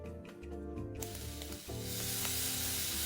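Diced chicken with sugar, pepper, five-spice powder and light soy sauce stir-fried in a pan for honey chicken wings, a steady loud sizzle that swells after the first second and keeps hissing without talk.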